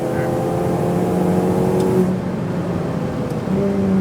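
A Ferrari 488 Pista engine holds a loud, steady drone while accelerating on a race track, the tone shifting slightly as the throttle changes, heard from inside the car.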